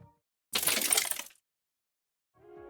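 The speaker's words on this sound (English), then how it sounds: "For the ice impact sound, I began with a crackling sound from a sample of ice breaking" A short burst of crackling, shattering ice breaking for a game ice-impact effect, bright and crisp, lasting under a second amid silence, with a faint tonal hum at the very end.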